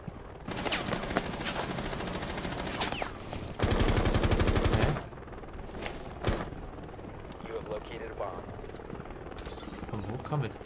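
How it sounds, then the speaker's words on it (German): Gunfire in the video game Rainbow Six Siege: rapid automatic bursts and sharp single shots, including one long sustained volley, loud and close over background game noise. "Von wo kommen jetzt denn die Schüsse?"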